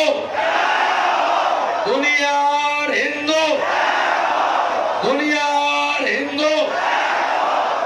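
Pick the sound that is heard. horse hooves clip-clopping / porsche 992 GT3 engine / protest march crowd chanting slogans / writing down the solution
protest march crowd chanting slogans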